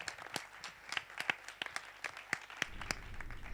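A few people give a faint, sparse round of applause, with individual claps distinct and irregular at a low, distant-sounding level.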